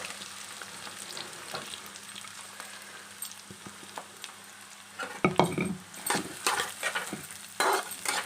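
Chopped onion sizzles in a hot pan for egg bhurji, a low steady frying hiss joined by sharp scrapes and clinks of a spoon stirring against the pan toward the end.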